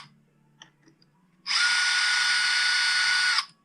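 A cordless power drill removes the screws holding the starter on a Husqvarna 450 chainsaw, giving one loud, close, steady whir of about two seconds after a short quiet lead-in with faint handling clicks.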